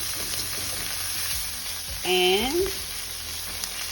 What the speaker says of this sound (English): we're just going to stir that around and let it cook a little bit